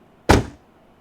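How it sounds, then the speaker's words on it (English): A door slams shut once, a single sharp, loud thud that fades within a quarter second, heard alone against near silence. "Miriam slammed the door."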